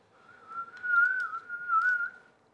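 A child's lone whistled tune wavers up and down for a couple of seconds, soft and close, with no talking.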